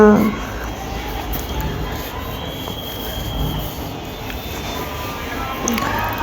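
A metro train rolls along with a steady rushing rumble and faint squeals, heard from inside the car, arriving at Motijheel in Dhaka.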